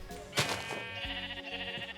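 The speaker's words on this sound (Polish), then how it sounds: "Tu jest owca, którą oczywiście chcemy ubić." Sheep bleating in Minecraft (Better Than Wolves mod), a loud nearby bleat followed by a second, softer bleat, over a steady game background hum.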